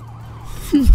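A police siren in a video game wails in a rising and falling tone, faint at first and then swelling louder and closer toward the end, with a low game hum underneath.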